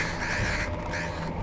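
A crow caws in the video game Bramble: two drawn-out, raspy calls over a continuous low ambient rumble.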